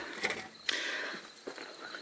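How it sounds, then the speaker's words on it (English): An old wooden ore cart rolls out of a mine with creaking, squeaking mechanical rattles and a few sharper clunks, moderately close, without speech. "And then here comes Chuck bringing out a second ore cart"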